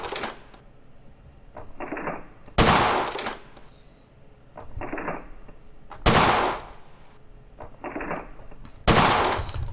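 Colt 1911 pistol shots at a shooting range in the World of Guns video game ring out as sharp, loud single reports spaced a few seconds apart, each followed by mechanical clacks and a fading echo.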